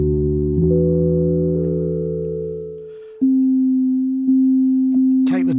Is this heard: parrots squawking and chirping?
no